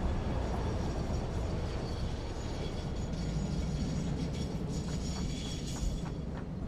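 Train running in the factory game Satisfactory, a steady dense rumble and rattle of rail wheels with faint mechanical clanks throughout.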